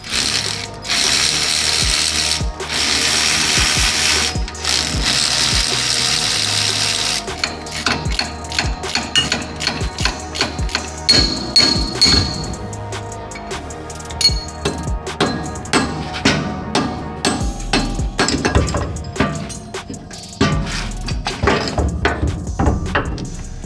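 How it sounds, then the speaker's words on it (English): Front drive shaft being removed from an old Toyota Land Cruiser, loud close hand tools with a long run of rapid ratchet clicks, then irregular metallic clanks and taps, no talk. "let's go ahead and now pop off that front drive shaft"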